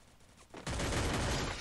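A burst of MP5 submachine gun fire from the Free Fire game starts abruptly after a quiet moment and continues as rapid, dense shots, fairly close and loud, with no talk over it.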